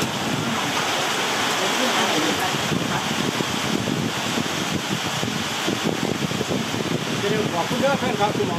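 Steady rain falls in a constant, even hiss that fills the whole stretch, with people talking over it.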